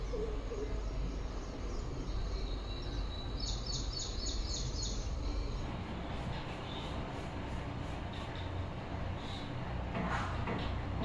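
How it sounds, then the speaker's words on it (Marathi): Birds chirp in the morning, first a quick run of repeated bright chirps, then a few scattered calls, fairly faint and distant over a constant low background hum. "पक्ष्यांचा किलबिलाट सकाळी"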